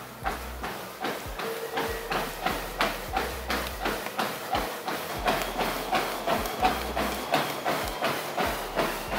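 Steady rhythmic footfalls on a treadmill belt during a jog wearing a DNSYS X1 exoskeleton, about two thumps per second over a constant motor hiss, close and moderately loud, with no talking.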